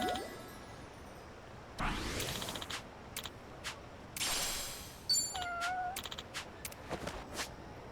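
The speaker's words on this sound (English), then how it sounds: "Cat." A cat meows several times in the Like a Dragon: Infinite Wealth video game, short clear calls spread over a few seconds above a quiet game ambience.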